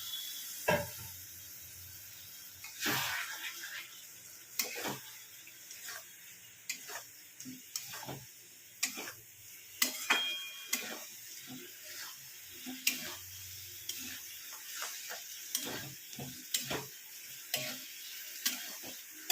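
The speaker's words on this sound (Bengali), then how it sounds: "আমি এখানে একটু অল্প জলের ছিটে দেবো, কষাবো জিনিসটাকে এখন।" Soybean chunks being sautéed and stirred in a pan after a small splash of water, giving a quiet sizzle under repeated sharp clicks and scrapes of a spatula against the pan, with no talking.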